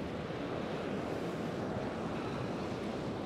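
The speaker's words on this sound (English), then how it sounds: "let's wait for this wave to go back" Ocean surf washing up onto the sand at Gerroa beach in Australia at sunset, a steady broadband wash and rumble of waves running continuously without pauses, close by and moderately loud with some wind across the microphone.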